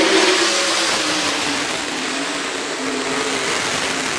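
Race cars at a state fair speedway in the first heat race, a dense, steady engine roar with droning harmonics holding loud and near throughout, no voices over it.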